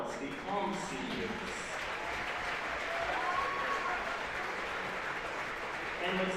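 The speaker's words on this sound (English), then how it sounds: "let's have a nice round of applause for all of our Linn-Mar Varsity seniors" Sustained crowd applause fills a gym after a boys varsity basketball game, honoring Linn-Mar varsity seniors; steady broadband clapping runs the whole time with faint voices and cheers mixed underneath.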